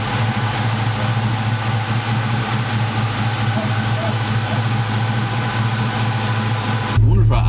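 LS V8 engine idling with a tailpipe rattle, a steady, deep, close idle with a constant low drone before a sudden louder change near the end.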